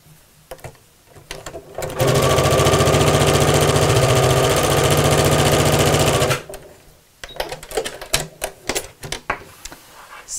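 A sewing machine runs a steady, continuous stitch for about four seconds along a tote bag seam, loud and close, between quieter handling sounds and fabric shuffling.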